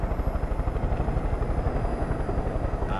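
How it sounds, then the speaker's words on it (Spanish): Steady, loud rotor thump and engine drone from a helicopter in Far Cry 5, continuous and close throughout with no voices. "voy a dejar el helicóptero, yo creo, por aquí"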